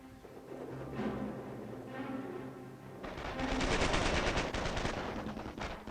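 Machine gun fire in the Company of Heroes Mobile strategy game, a sustained burst of rapid shots starting midway and running to the end, layered over a steady battle ambience.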